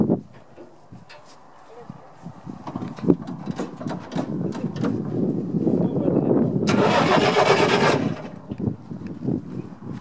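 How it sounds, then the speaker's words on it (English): A 1965 Thiokol Imp snowcat engine cranks and catches, its low rumbling growl rising into a loud, steady run near the end, with people talking over it outdoors. "Завелись!"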